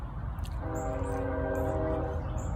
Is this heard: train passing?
yes